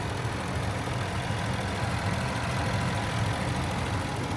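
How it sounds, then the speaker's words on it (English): A 2016 Range Rover Sport Supercharged Dynamic idling with a steady, smooth engine hum and low rumble. It stays even and continuous, with no knocks or surges, and no one speaks. "nice and smooth running engine, no odd noises or vibrations"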